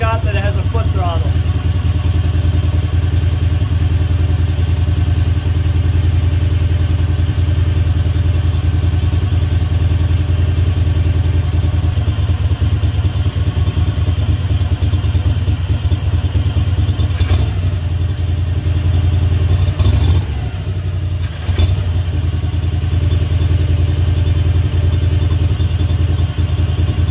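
A free garden tractor used as an off-road mower sits running and warming up, its engine a steady loud low drone with a constant mechanical clatter, close by and unchanging for the whole stretch, with a brief dip near the end.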